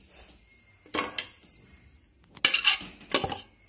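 A spoon scrapes and clatters against a metal baking tray as macaroni for béchamel pasta is scooped and spread over a layer of meat, giving bursts of close utensil clinks and scrapes with short pauses between.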